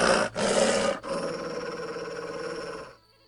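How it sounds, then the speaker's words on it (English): A dog growls and snarls in The Witcher PC game, two short loud bursts followed by a sustained rumbling growl that fades out near the end. "That dog seems to be looking for something."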